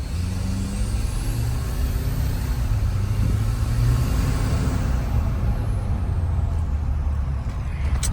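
2022 Ford F-250 diesel pickup with tune and delete driving at light throttle, a steady loud engine drone and road rumble with a faint whine rising near the end.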